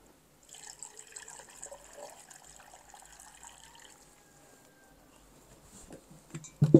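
Water is poured into a blender holding six chopped carrots, a steady trickling fill running for several seconds at moderate level, ending in a few louder knocks.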